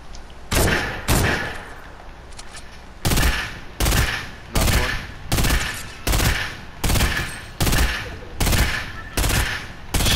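Rapid bursts of gunfire from a shooting video game, loud and close, repeating in regular clusters about every second with short gaps between volleys.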